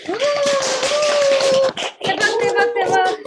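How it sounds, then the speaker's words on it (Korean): Participants in an online Zoom lecture clap along for a newly opened center, with the clapping sounding under loud, sustained shouting and talking voices throughout. "우리 모두 센터 대박 나시라고 우리 대박 박수 한번 보내드릴까요?"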